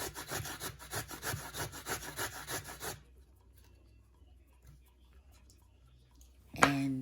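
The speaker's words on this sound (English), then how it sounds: "I use the larger part of the grater, and you just grate it away" Cassava root is rubbed against the coarse side of a grater in quick, rhythmic rasping strokes for about three seconds, close and steady, then near silence before a brief knock at the end.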